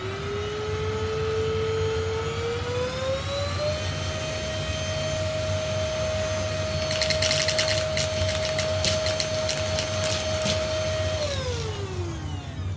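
A Greenote GSC40 cordless stick vacuum runs steadily with a whine that rises in pitch and holds, then drops near the end, while a crackle of large debris rattling up through it sounds in the middle.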